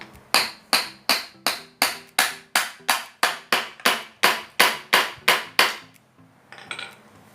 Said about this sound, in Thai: คือเราต้องตอกอย่างเดียวนะตอกตอกดันออกไป